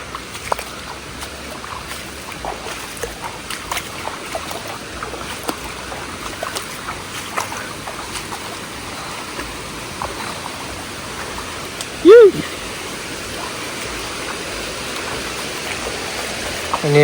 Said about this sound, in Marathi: पाटा थ्रू व्हाळाचं पाणी वाप्यात घेऊन शेतात नेलंय.